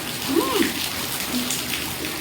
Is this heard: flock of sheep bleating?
no